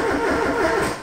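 The engine of a Ford Escort XR3i Cabriolet, back after being revived, cranks and turns over in a steady continuous churning drone, close and loud, with no talking.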